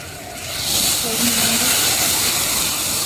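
A steady hiss of hot water sizzling in a hot pan of kofta curry masala swells after a moment and keeps going, with a faint voice underneath.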